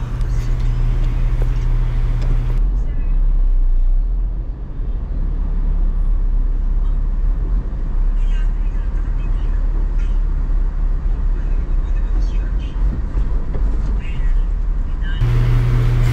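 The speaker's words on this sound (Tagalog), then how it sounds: "dadaan ka muna sa heavy traffic at almost 4 or 5 lanes po ang sinasakop nito" Dense Metro Manila road traffic with several lanes squeezing down into one, a steady broadband rumble of cars, buses and trucks with low engine drone and occasional air-brake hiss, continuous and fairly loud throughout.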